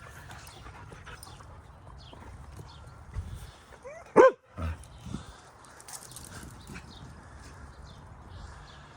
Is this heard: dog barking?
yes